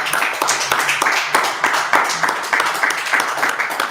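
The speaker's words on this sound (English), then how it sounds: "Let's go ahead, clap it up." A live audience claps along at a Thursday night scripture breakdown event, the sharp hand claps coming in a steady, rhythmic pattern that stays moderately loud and close for a few seconds, with no voices over it.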